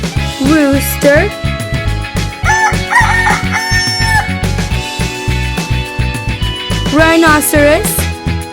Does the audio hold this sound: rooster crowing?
yes